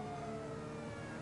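In the GTA video game, a police car siren wails steadily and fairly loud over a low traffic rumble, its pitch gliding slowly, with no voices.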